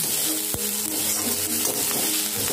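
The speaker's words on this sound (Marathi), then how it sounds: "आता अर्धा ते 1 मिनिट आपण परत परतवून घेऊया." Vegetables and capsicum sautéing and being stirred in a hot pan, a close, steady sizzle and crackle that runs continuously without pause and with no voices.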